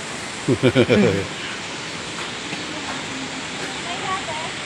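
A steady, full roar of water rushing over a dam fills the whole clip, with a short burst of a voice speaking near the start.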